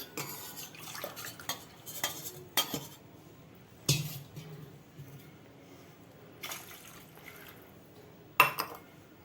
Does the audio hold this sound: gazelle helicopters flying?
no